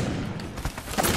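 Gunfire in Apex Legends: a rapid burst of shots over a dense game mix, with a few heavier thuds near the end; no talk over it.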